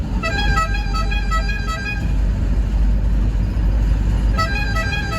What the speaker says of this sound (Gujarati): હોર્ન મારો ની ને